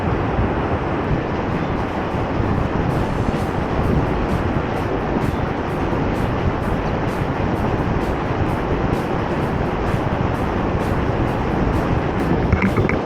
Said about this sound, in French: Les vagues sont pas très grosses, mais il y a énormément de vent.